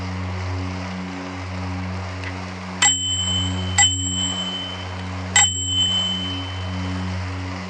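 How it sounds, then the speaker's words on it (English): Three bright bicycle bell dings ring out one after another inside a tunnel, each trailing a ringing echo, over a steady low mechanical hum. "I will ring the bell in the tunnel."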